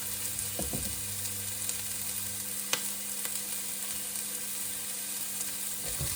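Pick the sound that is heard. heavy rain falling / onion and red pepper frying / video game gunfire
onion and red pepper frying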